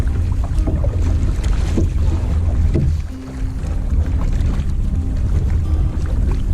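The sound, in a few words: canoe cutting through waves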